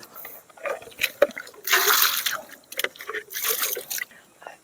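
Water sloshing and splashing in bursts as a bucket is drawn up from a village well in the tribal village of Kovelapalem, heard up close with no talk.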